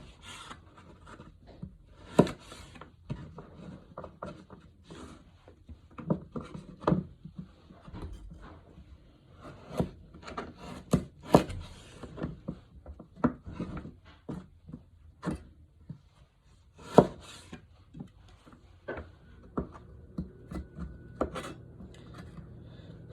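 Knife cutting a carrot into julienne strips on a board, a faint series of irregular crisp chops and taps scattered through the quiet.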